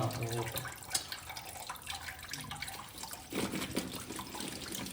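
A thin stream of tap water runs and splashes steadily into a sink, fairly quiet, with faint clinks and a brief voice early on.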